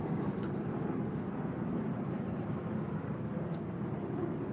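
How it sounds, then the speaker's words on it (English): Low, steady roar of airplanes passing overhead, a continuous broad rumble with no break over the few seconds, moderately loud and steady, with no talking. "The planes are loud today."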